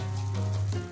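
Marinated chicken satay grills on a flat Teflon pan over medium heat, making a brief steady sizzle over a low, constant hum.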